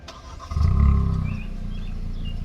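A 2023 Kia Forte GT coming to life by remote start, with a loud low engine roar rising after a brief crank and then settling into a steady idle, with no talk.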